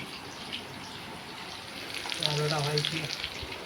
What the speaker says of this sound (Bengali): আলুটা ভাজা যাচ্ছে।